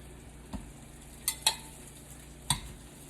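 Sausages sizzle faintly in a frying pan while a few sharp utensil clinks against the pan ring out at irregular moments, quiet and close.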